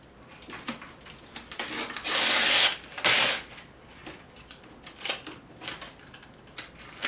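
Paper backing being torn off embroidery stabilizer for towel embroidery, a few short scratchy rips with two longer loud tearing bursts near the middle, close up and without talk.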